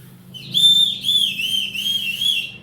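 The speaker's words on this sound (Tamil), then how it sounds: "விசில் அடிக்க ரெடியா?" Loud, shrill whistling at a political campaign event in Trichy, several long sustained blasts with slight pitch wavers over a low crowd rumble.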